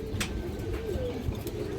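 A male Giribaz high-flyer pigeon coos, giving a low, close, rolling call that repeats briefly against a soft background.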